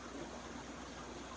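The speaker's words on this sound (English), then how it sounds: "Just dump some water out for a second." Water pours out steadily from a container holding Copadochromis fry during a tank water change, a continuous soft rushing trickle, faint and even throughout, with no talking.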